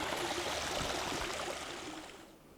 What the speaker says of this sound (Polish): taki wodospad wybija ze skały